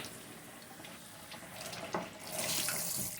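Cold tap water splashes over a mid-century wooden tray during rinsing, a soft hiss at first that grows into a fuller, brighter spray toward the end, with no talking.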